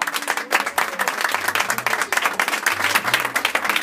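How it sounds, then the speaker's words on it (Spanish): An audience at a live comedy show in Argentina claps in a loud, sustained burst of applause, dense and close, with no speech standing out above it. "un aplauso bien fuerte para todos los que están en esta noche aquí"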